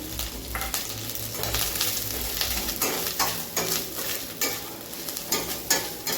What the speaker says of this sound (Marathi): आपलं तूप छान वितळलं की त्यामध्ये एक ओलं खोबरं किसून घेतलेलं ते घालून घेऊया